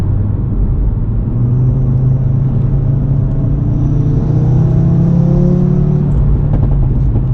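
A Stage 2 tuned Audi RS3 on a mountain drive pulls hard through the revs, its deep engine note rising steadily and loud from start to finish with a constant rumble underneath, no talking over it.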